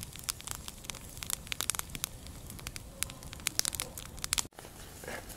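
Campfire burning at a winter bushcraft camp in the Siberian taiga, with dense, close pops and crackles over a soft roaring bed. Brief crunching sounds come in near the end.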